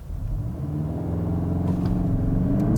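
A 2022 Kia Stinger GT-Line sedan launches after brake torquing with traction control off, its engine rumbling and rising steadily as it accelerates, loud and close inside the car.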